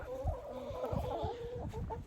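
Hens clucking in a farmyard, a flock of eight chickens making steady, overlapping clucks and short calls close by, with no talking.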